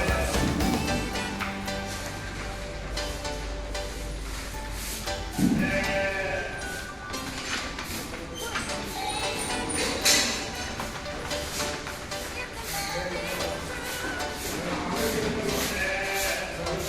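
Sheep and goats of mixed breeds bleat repeatedly on a livestock farm, several animals calling near and far over a steady barn background, with no talk.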